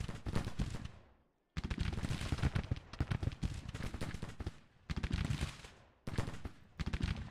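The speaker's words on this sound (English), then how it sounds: "We're actually shooting them in the back, which is even better." Troops fire volleys in Grand Tactician: The Civil War, heard as loud, dense bursts of rolling musketry, each lasting about a second or more and separated by brief silent gaps.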